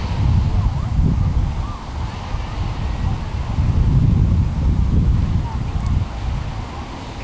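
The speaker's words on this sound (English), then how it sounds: "Maybe even feeling that gentle wind brush up against us." Gentle beach wind blows steadily and fairly loud, a low rumbling rush that swells and eases in slow waves over the whole stretch, with no voices heard.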